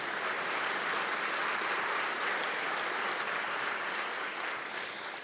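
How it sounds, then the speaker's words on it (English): Sustained audience applause fills a room at a city government State of the City event, steady dense clapping at an even level for several seconds with no talk over it. "Let's give them a round of applause as well."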